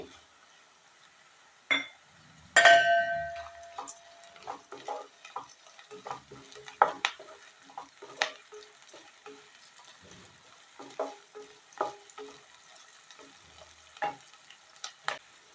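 Chana dal, mustard seeds and cumin hit hot oil with a sudden sizzle, then a stirring spoon scrapes and clinks against the pan in irregular taps over a faint crackle.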